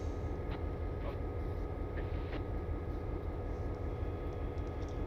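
A train rumbling steadily in a video game, a dense continuous low drone of engine and wheels with no break, loud and close throughout.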